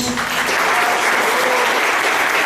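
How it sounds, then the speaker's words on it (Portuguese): A church congregation bursts into loud, dense applause during a worship service, a continuous roar of many hands clapping at once. "Vamos aplaudir a Jesus."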